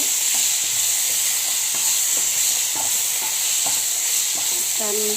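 Leafy greens are stirred in a hot frying pan. A steady loud sizzle of oil runs throughout, with repeated scraping strokes of the spatula against the pan and no talking.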